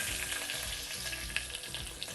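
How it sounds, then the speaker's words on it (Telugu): Tempering spices, dried red chilli and curry leaves, crackle with dal frying in hot oil for a raw tomato curry, a close, steady sizzle with small pops throughout. "పోపు వేగింది, ఎర్రగా అయింది పప్పులో."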